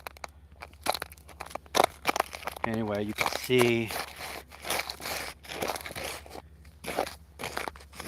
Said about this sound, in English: It's like crunchy ice.